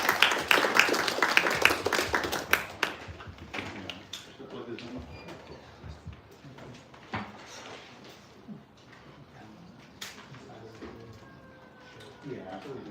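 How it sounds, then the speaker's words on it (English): An audience at a talk gives a brief round of clapping at the start that fades within a few seconds, followed by quieter room noise and some speech. "Let's hear a warm round of applause for Adam"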